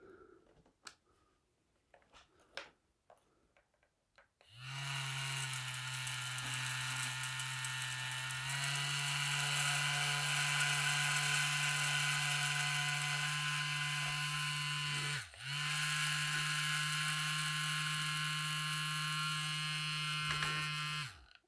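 A Frankford Arsenal Vibra Prime primer filler vibrates as it sorts Winchester primers, its loud steady electric buzz starting after some faint clicks and running for about seventeen seconds with one brief dip midway.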